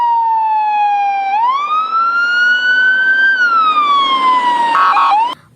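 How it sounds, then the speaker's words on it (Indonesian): Toy fire truck siren wailing continuously, its electronic tone sliding up and holding before dipping back down, loud and close, then cutting off abruptly at the end. "Wah, yang ini ternyata mobil pemadam kebakaran."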